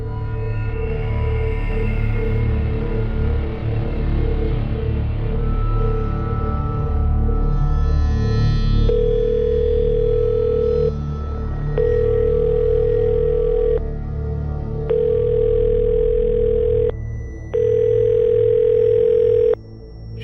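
A telephone rings out unanswered, its ringback tone repeating four times in evenly spaced steady beeps after a stretch of background music that fades under it.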